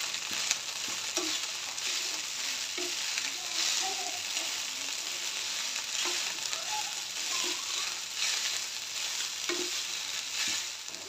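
Soya paneer fried rice with black pepper and salt gets mixed in a pan, producing a soft continuous sizzle with periodic scraping strokes of a spoon, fairly quiet and close, no voices.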